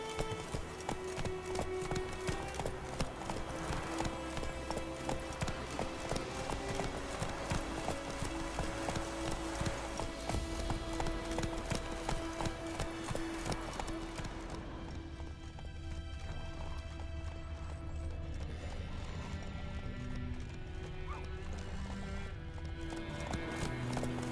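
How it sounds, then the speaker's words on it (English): Horse hooves clip-clopping in a steady trotting rhythm in The Witcher 3, loud and continuous over game music, with a brief whinny-like texture and the pace easing toward the end. "Whoa there, Roach."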